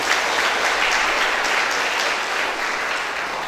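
Applause from an audience at the opening ceremony of a national selection for apprenticeships in Japan, a dense, even wash of clapping that stays loud and continuous throughout.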